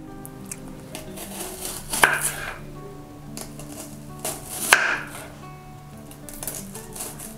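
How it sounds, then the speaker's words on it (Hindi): Knife slicing onions into thin rings on a board, heard as soft, intermittent cutting strokes with two sharper knocks against the board, fairly close and with no talk. "तो चलिए प्याज को कट कर लेते हैं"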